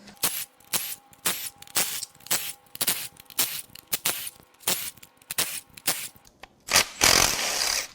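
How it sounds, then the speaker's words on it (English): Power tool working the front timing cover bolts off a seized BMW M5 S63Tu twin-turbo V8 during teardown, a series of short, sharp buzzing bursts in a quick, irregular rhythm, close and fairly quiet, with a longer burst near the end. "Now it is time to start unbolting the front timing cover."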